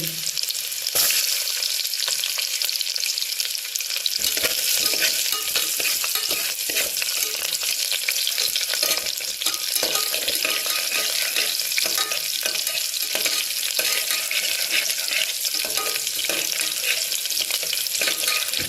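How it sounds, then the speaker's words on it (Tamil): Small onions and garlic sautéing in a pot for pumpkin and peas rice, a continuous loud sizzle and crackle with occasional stirring scrapes, close and steady throughout. "கொஞ்சம் சின்ன வெங்காயம் எடுத்துருக்கேன், அதை இதில் போடுறேன்."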